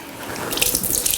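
Water runs from a kitchen sink tap as canned sweet corn is drained, a hissing splashing stream that swells and spatters briefly on its own.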